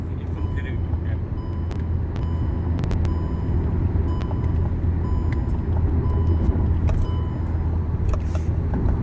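A car speeds along the Samruddhi expressway at about 120 km/h, heard from inside as a steady, loud low rumble of road and engine noise, with people talking over it.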